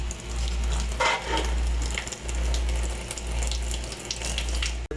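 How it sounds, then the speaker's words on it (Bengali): Hot water pours steadily from a kitchen tap while dried fish is being cooked, a continuous close hiss of running water over a low steady hum, with no talking. "দেখেন গরম পানি বের হইতেছে।"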